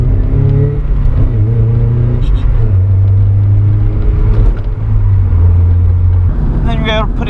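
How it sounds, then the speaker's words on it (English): A modified UK-spec Mazda MX5 2.5 with Bilstein shocks drives over bumpy roads, its engine droning steadily with low cabin rumble and shifting tones while someone talks over it. "You can feel that the Bilstein shocks really working as you sort of come round more of the bumpier roads."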